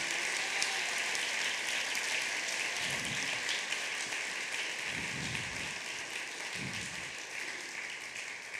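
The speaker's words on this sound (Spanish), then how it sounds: "Aplausos para el Señor." Applause from a church congregation thanking God during a service, a steady broad clapping that fills the room from start to finish, with no voices over it.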